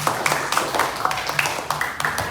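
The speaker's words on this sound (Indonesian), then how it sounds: "Kasih tepuk tangan dulu untuk kalian" Students in a classroom clapping together, with a brisk, fairly loud run of applause from a small group and rhythmic claps standing out throughout.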